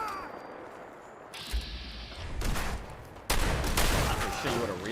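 Gunfire from a shooting spree in Fallout 4, a game, with a quieter stretch first and then bursts of loud shots and booms that thicken into a dense volley toward the end.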